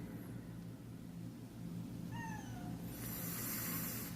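A cat meows once, a short rising-and-falling cry, clear but fairly faint over a low steady background hum, followed by a burst of high hiss near the end.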